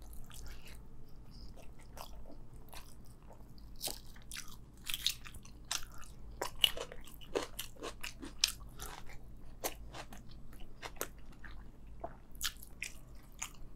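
Close-up eating of spicy egg curry with khichuri, with soft wet chewing, squishy bites and occasional sharper crunchy clicks in a steady irregular rhythm, alone with no talking.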